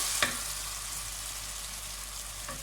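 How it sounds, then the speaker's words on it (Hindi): Masala with potatoes and peas fries in a pan for vegetable pulao, a steady close sizzle with a sharp utensil knock near the start and another faint clink near the end. "इसको मैं अच्छी तरह से भून रही हूँ।"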